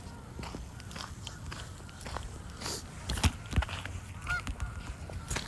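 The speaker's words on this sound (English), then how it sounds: "As you can hear, the ducks are honking." Ducks honking outdoors on an evening, several loud nasal calls bursting close by over a continuous background hum, with scattered footsteps.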